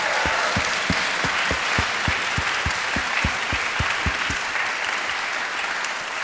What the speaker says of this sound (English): Should we have a round of applause for our orchestra today?